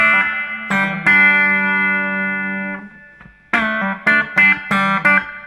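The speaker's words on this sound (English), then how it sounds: "Wow, very potent reverb that is." Guitar notes ring out through a Carlsbro ADR1 analogue effects unit, a long sustained chord fading slowly with heavy reverb, then several plucked notes with echoing tails.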